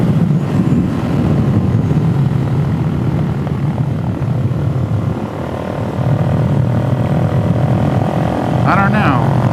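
A Suzuki DRZ400SM supermoto motorcycle being ridden, its engine droning loud and steady from on board under heavy wind rumble, with a slight dip midway and a rising whine near the end.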